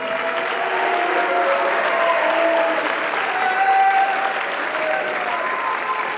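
An audience at a high school band spring concert claps in a steady, full round of applause that carries on evenly through the clip, with a faint murmur of the crowd beneath.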